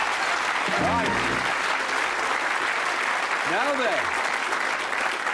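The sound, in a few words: studio audience applause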